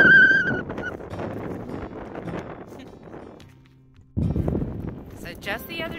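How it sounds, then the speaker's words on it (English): Wind buffets a microphone outdoors beside water, producing a loud rumbling roar that eases off briefly before gusting back in strongly. "Sorry about the wind."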